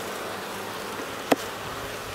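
Bees buzz around a hive outdoors, a dense and steady hum of insect wings close by, with one brief sharp click partway through.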